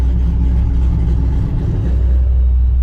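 A ProCharger-supercharged Pontiac GTO with its exhaust cutouts closed runs at a steady, loud, low rumble close by, without speech.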